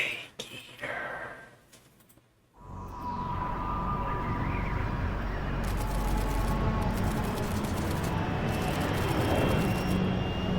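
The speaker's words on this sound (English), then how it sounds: "Currently flying over the Arctic Ocean." An aircraft in the video game Metal Gear Solid Delta: Snake Eater flies at altitude over the Arctic Ocean. After a brief quiet stretch, a steady, loud roar of engine and wind rises and holds to the end.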